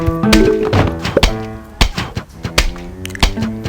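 Plants vs. Zombies game effects as a zombie is shot and its head knocked off: a run of hollow thunks and taps in quick succession over a background of bright game music.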